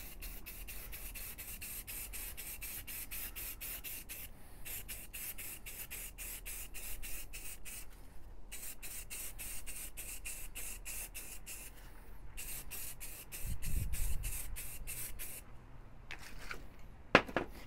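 An aerosol can spray-paints model trees before flocking, making rapid, rhythmic hissing bursts with short gaps as the can passes at different angles, fairly quiet and close, with a thud near the end and no speech.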